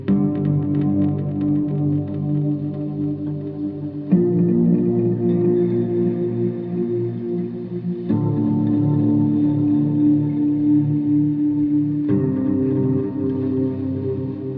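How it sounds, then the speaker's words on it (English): Sustained electric guitar chords drenched in effects, washy and reverberant, changing roughly every four seconds, loud and without any talking. "Very typical guitar sound for me, where I've actually got more effects blended into that sound"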